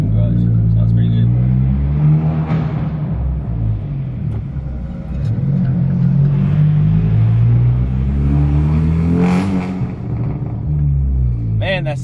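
A 10th-generation Honda Civic Si revs inside a parking garage, with a deep, booming exhaust rumble swelling and falling in repeated revs and a few sharp crackles near the end, echoing off the enclosed space.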